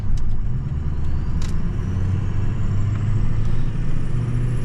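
A truck with a 6.0 diesel engine drives along with a continuous low rumble and road drone, heard from inside the cab. No one speaks.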